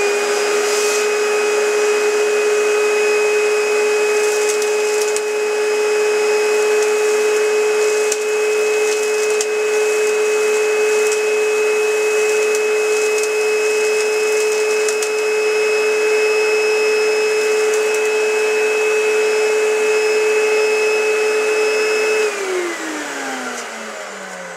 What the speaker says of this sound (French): j'ai un tas de poussière, alors on va voir, allons-y,